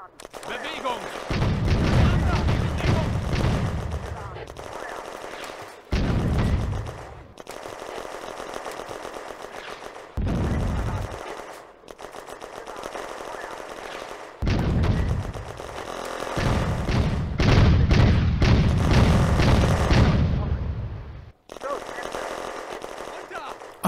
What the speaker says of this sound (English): the Soviets are targeting the attack with artillery as well as mortars